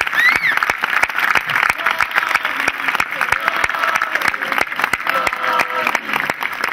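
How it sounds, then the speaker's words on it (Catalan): Audience applause at the Navarcles pubillatge election ceremony in 2009, a steady dense clatter of many hands sustained for several seconds, with a few voices and whistles faintly audible over it. "un aplaudiment"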